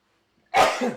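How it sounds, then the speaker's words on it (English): A single close, loud sneeze bursts out after half a second of silence, a sharp explosive onset followed by a brief trailing breath. "I am going to sneeze."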